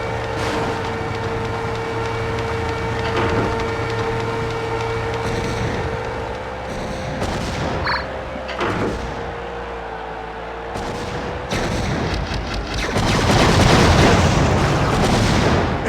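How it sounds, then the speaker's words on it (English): Laser-guided rockets fire in the WWE Crush Hour vehicle combat game, with repeated booming blasts over a steady engine drone and a heavier burst of noise near the end. "The People's Champion just grabbed the laser-guided rockets."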